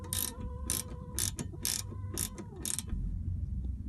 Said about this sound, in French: une clé plate avec un œillet qui permet de resserrer assez facilement en fait